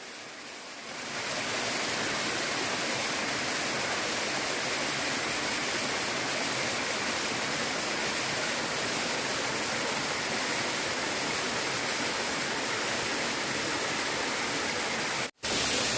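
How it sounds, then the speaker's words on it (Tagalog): Nalalata Waterfalls in Bula, Camarines Sur, rushing in a loud, steady roar that swells in after a second and holds constant throughout, with one brief dropout near the end. "so Nalalata Waterfalls, Bula, Camarines Sur"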